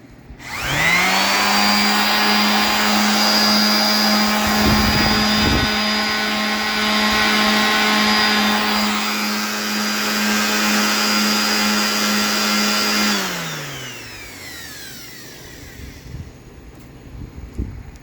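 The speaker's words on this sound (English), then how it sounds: "Now I've plugged in a sander, and I'm gonna turn that on." An electric sander powered by an IEE P3200 portable power station whirs up to a loud steady whine, runs evenly for about twelve seconds, then spins down as it is switched off.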